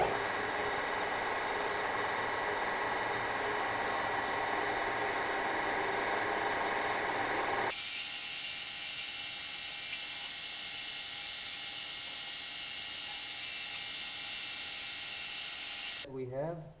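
Wood lathe turning a pen blank down to 13 millimeters for a gearshift pen kit, a loud continuous machine whir with a sharp change in tone midway, close-up, ending as it winds down.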